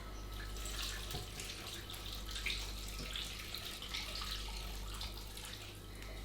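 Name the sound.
pouring 500 ml of stock onto potatoes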